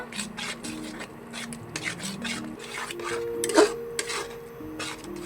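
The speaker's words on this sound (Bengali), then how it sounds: "এবার মশলাটা আমি ভালো করে কষে নেব।" Spice paste with chilli, cumin and coriander powder being sautéed in a pan for an aar fish head curry, heard as repeated scraping and rubbing strokes of a spatula, fairly quiet and close, with a low tonal hum underneath.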